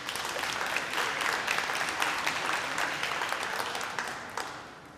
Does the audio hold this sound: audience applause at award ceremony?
yes